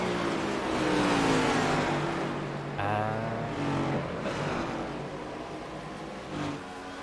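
Race cars on the Watkins Glen circuit roar past one after another, engines revving and shifting through rising and falling pitches, loud and moderately close with a steady rumble underneath.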